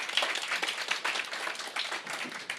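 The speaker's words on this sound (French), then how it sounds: "On l'applaudit aussi." Brief, fairly quiet clapping from an audience at a medical conference day, a patter of many hands with uneven bursts, heard alone without talk.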